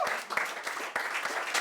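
Audience applauds a panel, a short burst of dense, continuous clapping from many hands with a few sharper claps standing out.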